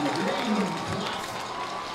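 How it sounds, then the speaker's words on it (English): A football stadium crowd roars in a steady, loud wash after an interception in a Bearcats at Grizzlies game, with a commentator talking over the noise. "And the crowd is going crazy."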